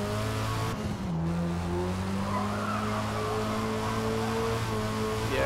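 A race car in Forza Motorsport 8 carrying too much speed into a hairpin, its tires squealing in a long skid over a steady engine drone. The sound is loud and continuous for several seconds, with no talk.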